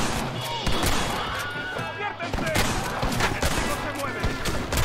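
Western-style gunfire in Red Dead Redemption, loud repeated shots crackling over one another in a sustained burst alongside other game sounds, with a voice talking over the action.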